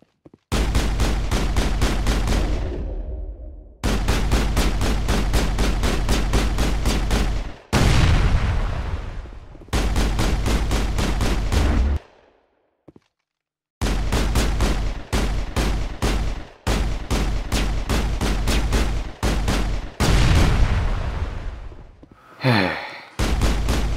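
Sustained automatic gunfire from the sci-fi shooter Mass Effect comes in long rapid bursts separated by short pauses, with a few single shots and swooshing impacts between them. It is loud and close throughout, and no one speaks.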